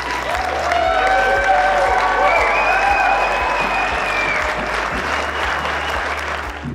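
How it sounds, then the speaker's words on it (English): An audience at an annual celebration event applauds military veterans and reservists, sustained loud clapping with some cheering and tonal whistles or music-like lines riding over it. "can we give them a round of applause?"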